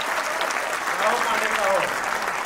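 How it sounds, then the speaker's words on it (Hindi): An audience at a Hindi comic poetry gathering breaks into steady, sustained applause that fills the room, with a voice faintly audible beneath the clapping. "अगर बनारसी मस्ती यहां पर छा गई है तो एक बार जोरदार तालियां बजाइए"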